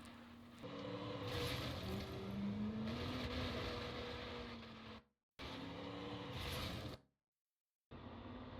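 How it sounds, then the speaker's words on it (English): A Moonhawk car spinning out during a BeamNG AI street race gives a continuous engine drone and tyre scrub that hold steady, then cut off twice in abrupt gaps before resuming. "Moonhawk's got in front, but he's spun out."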